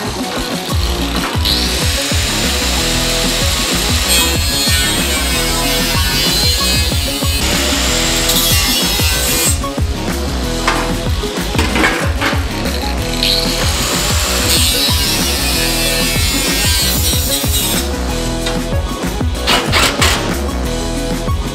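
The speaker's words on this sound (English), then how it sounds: "Unfortunately, because of the bull bar mounting brackets, we've got to trim the bash plate. Just need to trim the corner off here." Power tool cutting the corner off a steel bash plate during an ARB Summit bull bar installation on a Mitsubishi Triton, a loud continuous grinding whine with shifting pitch and scraping bursts, close and sustained throughout with no talking.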